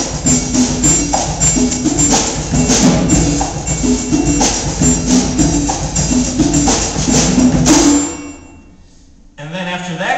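A steel drum band plays a jazz samba groove, with bright, ringing pan notes over a steady rhythmic pulse, loud and continuous before dropping away near the end.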